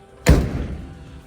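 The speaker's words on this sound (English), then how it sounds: "if you listen to these doors shut here, they've got new rubbers on them" A 1971 Holden Torana XU1's door with new rubber seals shuts with a single solid thump followed by a short low decay, close and alone.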